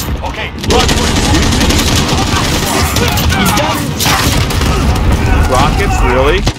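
Rockets blast amid heavy gunfire in a chaotic eight-player team match of Call of Duty, making a loud, unbroken wall of booms and rapid shots, with voices talking over the din.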